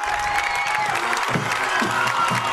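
Football fans on their feet in the stands at a high school Green Wave game against Mashpee, a sustained roar of crowd cheering and applause filling the whole moment, loud and continuous with scattered shouts.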